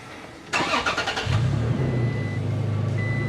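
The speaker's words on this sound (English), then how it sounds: "We'll get the car started." A 2017 Toyota Tacoma's engine starts: a quiet lull, then a rapid run of starter cranking pulses, catching about a second later and settling into a steady, close idle hum.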